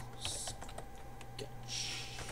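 A computer keyboard being typed on in short runs of soft keystrokes as a file name is entered, quiet and close, with no voices.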